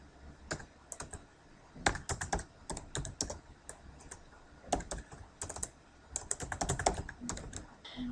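A link being typed on a computer keyboard, bursts of quick close key clicks separated by short pauses, with no voices.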